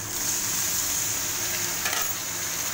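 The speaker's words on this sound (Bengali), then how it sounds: "এবার চিকেনটা ছেড়ে দেব।" Skin-on chicken pieces go into onions frying in hot oil, giving a loud, steady sizzle close to the pan with a brief scrape of stirring partway through and no talking.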